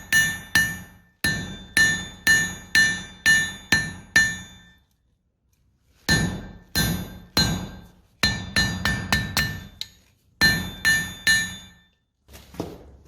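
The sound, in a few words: hammer forging a scarf joint in steel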